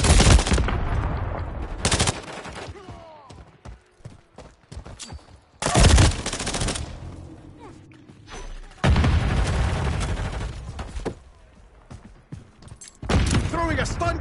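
Gunfire in Call of Duty, loud bursts of automatic and rapid rifle fire separated by quieter gaps, with voices speaking between the volleys.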